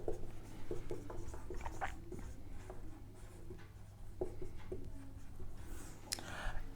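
Marker or chalk writing on a board during a maths lesson, with soft scratchy strokes and taps spread over several seconds against a steady background hum.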